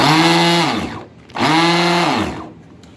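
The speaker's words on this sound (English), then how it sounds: "we'll briefly turn on the blender" Built-in blender on a Coolest Cooler running with ice and water, two loud steady motor whirs of about a second each, separated by a brief pause as the pitch drops and rises again, with no talk over it.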